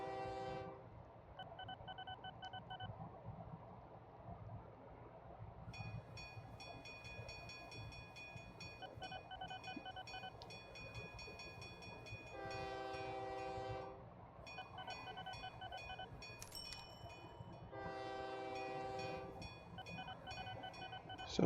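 A small train running with a steady rumble, sounding repeated bursts of its horn in short blasts, with chiming tonal signals between them, heard alone at moderate distance.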